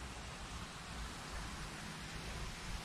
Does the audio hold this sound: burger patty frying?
no